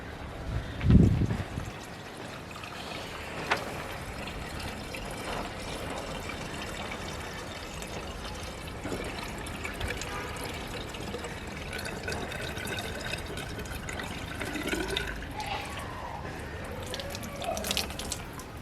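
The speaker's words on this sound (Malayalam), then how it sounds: "ഫൂട്ട് വാൾവ് ഊരി ഇതുപോലെ ഇതിലേക്ക് വെള്ളം നിറച്ച് കൊടുക്കുക." Water is poured by hand into the foot valve of a homemade water pump, making a soft, continuous trickling and splashing for the whole stretch, with a brief thud near the start and no speech.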